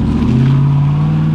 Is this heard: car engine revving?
yes